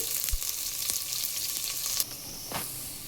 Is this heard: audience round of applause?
no